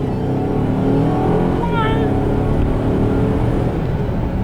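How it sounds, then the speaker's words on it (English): A 2016 Mercedes-Benz GLC300 turbo SUV accelerates from 0 to 60, with a steady loud engine drone and road roar heard from inside the cabin, a brief shift-like change midway. "right now we're gonna do a little 0 to 60 acceleration here"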